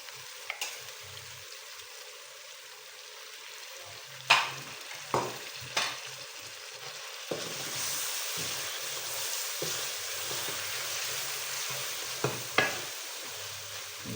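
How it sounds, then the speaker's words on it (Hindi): Two spoonfuls of yogurt are stirred into chicken frying in a pan for Shimla chicken, a steady soft sizzle running under scattered scraping clicks of the spoon, no voices. "अच्छी तरह से मिला रहे हैं दही को।"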